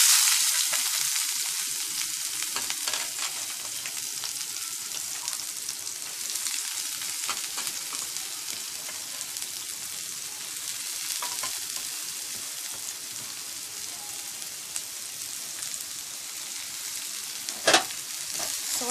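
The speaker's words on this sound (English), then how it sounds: "now we are going to add the chopped onions" Chopped onions fry in hot oil with a loud, continuous sizzle that holds steady throughout, broken by a single clink of a utensil near the end.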